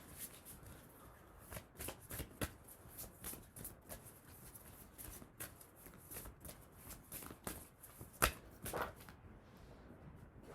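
Oracle cards are shuffled by hand for a tarot reading, a quick irregular run of soft riffling flicks and taps, close and fairly quiet, with a sharper snap near the end as cards are pulled.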